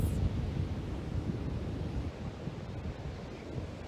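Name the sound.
ocean waves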